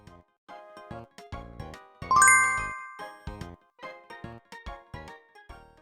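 A notification bell sound effect rings out as a bright, tinkling run of chimes, repeated in quick clustered strikes with one louder flourish near the middle, alone with no talk.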